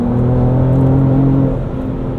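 A Ford Ranger Raptor on 35-inch tires pulls onto a highway, its engine droning loud and close from inside the cab, the note rising steadily and then easing slightly near the end.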